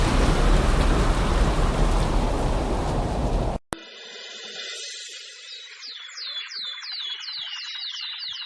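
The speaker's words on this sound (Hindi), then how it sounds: "चलो इसी पेड़ के नीचे बैठ जाता हूं, कुछ तो इस बारिश से बच पाऊंगा।" Heavy, steady rain pours down, then cuts off briefly before softer rain continues with birds chirping repeatedly in the background.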